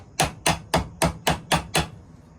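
Seven evenly spaced, sharp metallic taps of a hammer striking the loose rivet pin of a vintage Schrade pocketknife, close and crisp, each with a short ring-off, then quiet.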